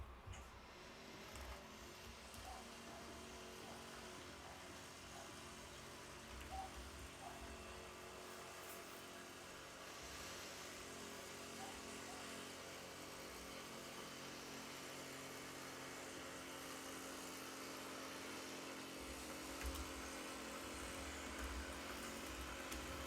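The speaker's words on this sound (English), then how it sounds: "You let me know if the lawnmower is getting too loud." A lawn mower runs somewhere outside, a steady, moderately distant engine drone that holds at an even level for the whole stretch with no talking.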